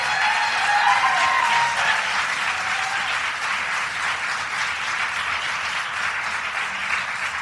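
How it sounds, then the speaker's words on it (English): Sustained applause from an audience at a political gathering honoring advocates and legislators after a vote, a steady dense wash of clapping lasting throughout with no speech over it. "Don't forget, these people are applauding."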